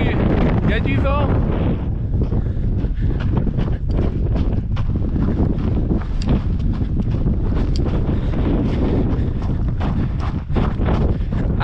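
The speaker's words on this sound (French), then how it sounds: "En plus, il y a du vent." Strong wind buffets the microphone on a mountain stage of the GR20 in Corsica, a loud continuous roaring rumble with gusty bursts, and a voice is faintly heard through it.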